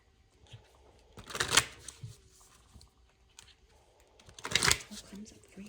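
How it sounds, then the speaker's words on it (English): A deck of Messages of Love oracle cards is shuffled in two bursts of rapid riffling flutter, close and clear, separated by a quiet pause with faint background sounds. "I'm going to pull out from Messages of Love Oracle cards"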